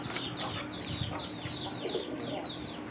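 A newly paired couple of pigeons in a breeding loft, with soft cooing and chirpy calls repeating over quiet background noise, fairly close, no voices.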